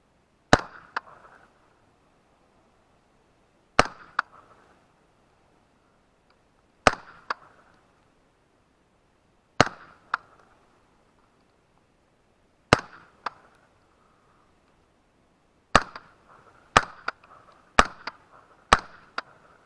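Gunshots fired through a Witt Machine Mod 1 suppressor ring out as sharp, isolated cracks, roughly ten in all, spaced a few seconds apart with a quicker cluster near the end, each followed by a short decay.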